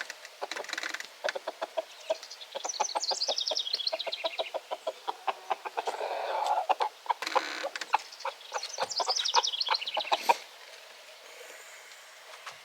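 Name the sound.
hens clucking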